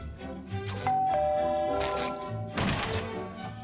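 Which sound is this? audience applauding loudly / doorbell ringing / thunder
doorbell ringing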